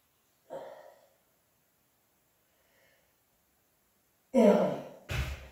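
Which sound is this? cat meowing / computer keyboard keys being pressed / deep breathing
deep breathing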